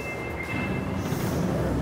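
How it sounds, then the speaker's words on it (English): A metro train in Fukuoka, Japan, rumbles along with a steady rolling roar and a faint whine, close and continuous. "Yeah, we're taking the metro back."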